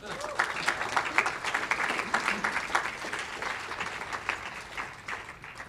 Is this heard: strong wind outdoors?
no